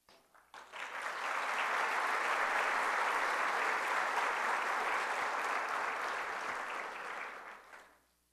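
Applause for newly graduated students at a graduation ceremony, a sustained round of clapping from a large audience that swells quickly, holds steady for several seconds, then fades out.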